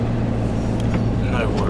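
Vehicle engine droning steadily as it climbs a slippery compacted snow slope in the Arctic, a close, continuous hum with a few faint higher noises on top.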